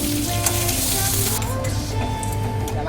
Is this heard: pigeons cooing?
no